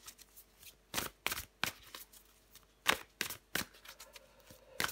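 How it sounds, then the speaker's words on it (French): Tarot cards shuffled in a series of sharp, crisp riffles and slaps, close and clear, spaced irregularly through a quiet background with no voice. "je prends encore une carte pour vous, les Capricornes"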